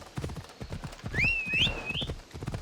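Horse hooves clip-clop in a steady trotting rhythm in Assassin's Creed Odyssey, close and clear, with a high whinny rising over the hoofbeats midway.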